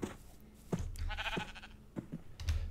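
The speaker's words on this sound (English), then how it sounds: "Come on, sheep." Sheep bleating in the Minecraft FTB Interactions modpack, a few short game bleats at moderate level mixed with other soft game sounds, no talking.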